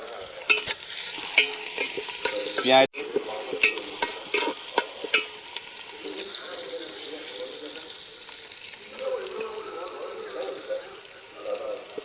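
Onions frying and being stirred in a pan after garam masala for a chicken feet and skin dish, a steady sizzle with scraping stirs and brief clinks, a short break near three seconds, then quieter sizzling.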